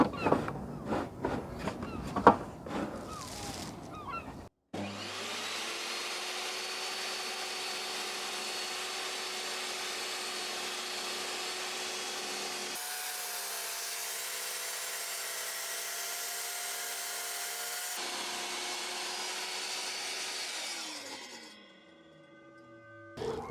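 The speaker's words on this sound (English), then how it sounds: "So the next thing I'm going to be cutting is a slab of oak." A Rutlands R1618 table saw slices through a 3 cm thick oak slab, opening with clattering handling noises, then a sustained loud whining hum with shifts in pitch as the blade cuts, before spinning down at the end.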